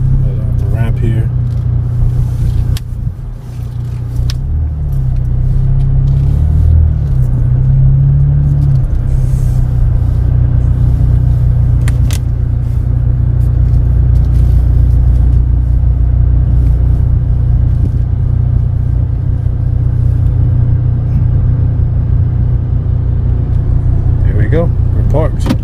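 A Chevrolet Cruze drives off a service ramp after repair work, its steady low engine rumble and road noise holding loud and continuous throughout, with a brief dip in level early on.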